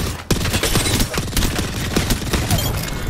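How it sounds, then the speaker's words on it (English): Rapid bursts of gunfire from the Nemesis burst weapon in Apex Legends team deathmatch, loud and close, the clustered shots repeating steadily without pause over other battle noise. "the Nemesis is the new burst weapon that's pretty good"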